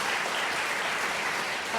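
Audience applause at a talk with Iceland's First Lady Eliza Reid, a dense steady wash of many hands clapping throughout, fairly loud and without speech.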